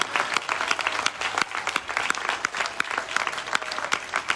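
Crowd at an outdoor political rally in Latina breaks into sustained, dense applause, many hands clapping steadily at close range with a few louder claps standing out, no voice over it.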